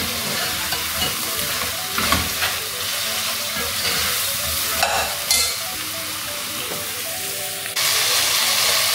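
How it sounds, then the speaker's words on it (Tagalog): Onion sautés in a pan for mung bean stew with chicken, a continuous close sizzle and hiss with repeated scraping stir strokes, the frying swelling louder near the end. "lagyan na lang natin yung onion. Sautein natin siya ng 5 minutes"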